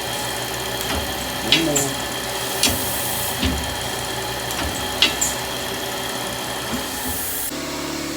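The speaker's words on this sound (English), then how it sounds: "You can hear the air compressor." Air compressor running for a saw blade indexing machine, a steady mechanical hum with sharp pneumatic clicks and clacks at irregular intervals, with a person speaking briefly over it.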